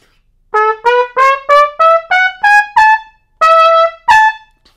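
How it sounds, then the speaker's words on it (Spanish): A trumpet plays the intro of 'La Guadalupana', a short, bright phrase of about ten detached notes, climbing upward in a quick rhythm before two final longer notes. "vamos a tocar la, la salida de la canción que suena así. La primera trompeta."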